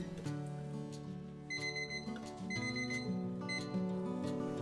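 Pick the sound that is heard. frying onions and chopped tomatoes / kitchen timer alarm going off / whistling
kitchen timer alarm going off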